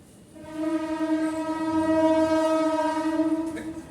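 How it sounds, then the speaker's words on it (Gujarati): A train horn blares loud and steady with stacked harmonic tones, holding for several seconds before cutting off, with a low rumble of passing cars beneath. "ટ્રેનનો અવાજ આવી રહ્યો."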